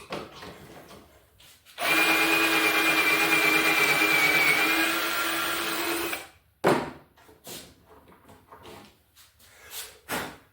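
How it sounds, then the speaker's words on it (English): A power drill bores pocket holes into wood boards for a floating headboard, a loud steady whine lasting about four seconds, followed by a few short bursts and clatter; no speech. "Make some pocket holes."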